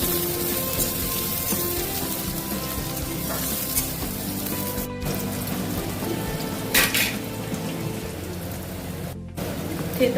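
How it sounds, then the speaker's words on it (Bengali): Chopped onion fries in hot oil in a pan for a Bengali lote fish dish. A loud, continuous crackling sizzle like heavy rain fills the whole stretch, with a few faint utensil clinks and no talking. "তেল গরম হয়ে গেছে কুচিয়ে রাখা পেঁয়াজটা দিয়ে দেবো"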